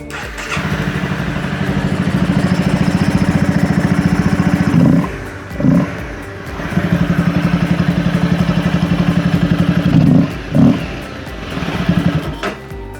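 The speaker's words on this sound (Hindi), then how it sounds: "पहले मैं आपको आवाज़ सुनाता हूँ बिना एयर फ़िल्टर की बाइक की" A Honda CBR250R engine with its air filter removed runs loudly up close, holding a steady raspy drone broken by several sharp throttle blips and short pauses.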